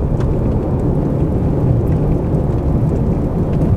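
Deep, continuous rumble of thunder from a tornado-producing thunderstorm in the Texas Panhandle, loud and steady throughout, with rain noise blended into the low roar.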